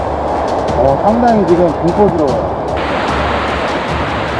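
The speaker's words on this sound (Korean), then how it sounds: "바람이 굉장히 많이 불고" Gale-force wind rushes loudly over a seaside campsite in Taean, South Chungcheong, amid storm and rain. Someone speaks over the steady, heavy roar.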